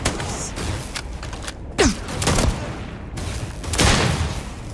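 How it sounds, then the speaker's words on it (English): Scattered shots of gunfire in Starfield at Hopetown, irregular pops and a whizzing streak among background game noise, moderately loud, with no talk over them. "Why are they shooting at me?"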